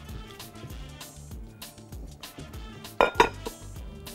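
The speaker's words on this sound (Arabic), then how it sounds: "اجيب هنا حله تانية" A cooking pot handled in a home kitchen, with close metallic clanks and clinks of pots and utensils in an uneven rhythm and a louder clatter near the end.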